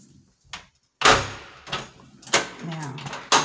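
A house door in a hallway opens with a few sharp knocks and thuds, a louder bang and rattling close by, with quiet gaps between the sounds.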